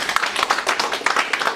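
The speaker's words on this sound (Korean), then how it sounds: "박수 한번 쳐드려야지" Brief clapping from an audience at a lecture, a quick patter of fairly close hand claps with uneven rhythm lasting just over a second.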